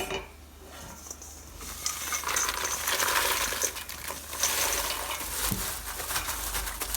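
Popcorn corn tipped into caramel in a pan and stirred, producing a steady, dense rattling and scraping that swells and continues for several seconds without talking.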